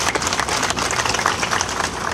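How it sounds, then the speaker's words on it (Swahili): An audience applauding at an outdoor public gathering, a dense, even patter of many hands clapping at moderate volume for the full stretch, with no voices on top. "Tuwapigie makofi mengi sana wenzetu wa TARURA."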